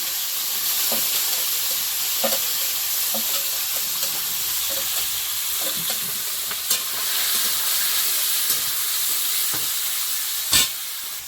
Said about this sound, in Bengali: এবারে মাছগুলো ধরে দেবো কড়াইটা ভালো গরম হয়ে গেছে